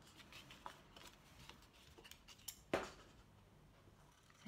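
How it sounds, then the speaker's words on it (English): Quiet snips and rustles of scissors cutting paper, a few short cuts with one sharper snip in the middle. "we're going to take our scissors and we're going to cut each of those lines"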